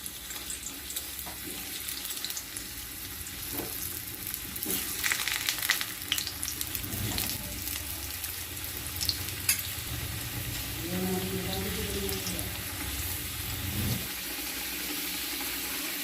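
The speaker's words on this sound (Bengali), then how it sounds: "তেল গরম হয়ে এসছে, এবার আমি আলুটা ভেজে নিচ্ছি।" Potatoes fry in hot oil in a wok, giving a steady close sizzle broken by scraping stirs and a few clinks of a utensil against the pan.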